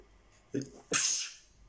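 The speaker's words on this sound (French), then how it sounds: "je vais éternuer" A single close, sharp human sneeze with a brief inhaled lead-in, alone in a quiet room.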